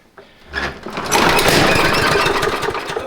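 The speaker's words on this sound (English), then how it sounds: "I don't know why it's backfiring." Craftsman riding mower engine cranking over and then catching, running rough and loud with uneven popping that suggests backfiring, no talk.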